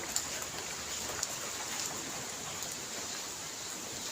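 Steady rain falls at a temple ashram, a soft, even hiss with scattered faint drops and no talk over it.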